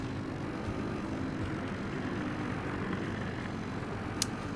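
Aircraft drone steadily overhead during a World of Warships naval battle, a continuous low engine hum that stays even throughout, with one brief sharp click near the end.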